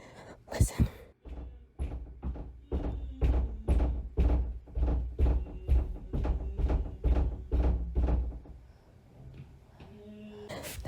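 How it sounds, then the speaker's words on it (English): Heavy banging on a door at night, heard from a kitchen: about fifteen loud, evenly spaced thuds in a steady rhythm, a pause, then another knock, with faint whispering. "That's a whole person banging on the door."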